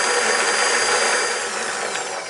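Electric mixer churning flour, salt and olive oil, a steady, close whirring motor hum that runs continuously and eases off slightly toward the end.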